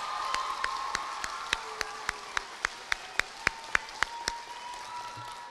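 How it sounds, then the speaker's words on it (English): Rhythmic clapping at an elementary school awards ceremony, a steady run of sharp, evenly spaced claps over a soft room murmur, fairly faint and without talk. "how about a huge round of applause"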